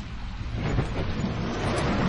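Rain and thunder from a spooky sound effects record play back as a dense, steady wash of rainfall with a low rumbling undertone, heard alone and growing slightly louder.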